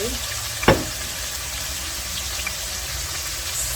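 Fried rice with oyster sauce sizzling in a hot pan, a steady close hiss of frying with one sharp clank of a utensil early on.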